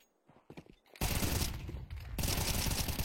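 Video game gunfire during an esports match: a few scattered faint shots at first, then loud, dense automatic fire that runs without a break for the last two seconds.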